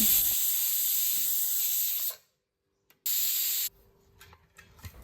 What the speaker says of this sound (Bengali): এবার প্রেশার কুকারের বাষ্পটা বের করে নেব